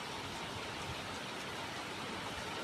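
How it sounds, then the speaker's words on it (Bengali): Rain falls in a faint, even hiss, a soft steady wash of drops heard at a distance with no voices over it. "শুনতে পাচ্ছেন বৃষ্টি হচ্ছে"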